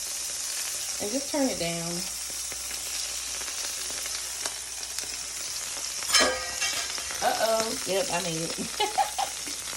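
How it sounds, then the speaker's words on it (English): Minced garlic sizzles softly in a pan for Asian-style ribs, a low steady frying hiss beneath a person speaking briefly. "we're gonna add in some minced garlic"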